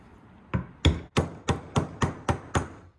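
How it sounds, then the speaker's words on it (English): Eight sharp hammer taps seat a King Shocks OEM bushing for a Ram, struck at a steady, slightly quickening pace, close and loud with brief ringing decays between blows. "we're just gonna tap this in there just a little bit with the hammer, just to get it somewhat set"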